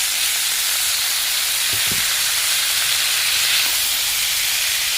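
Boiled banana flower frying in a pan with spices and sugar, a loud continuous hiss and sizzle with a brief soft knock of stirring partway through, no talking.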